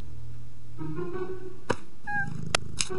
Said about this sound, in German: Katze auf der Tastatur.